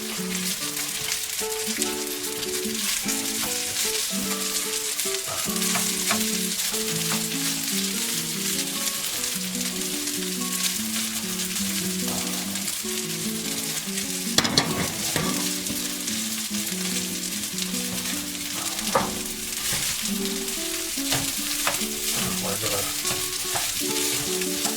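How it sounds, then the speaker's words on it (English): Rice fries in butter in a pan, sizzling steadily with a constant crackle while a utensil stirs and scrapes through it in occasional close clinks. "Fry our rice a little bit with that butter."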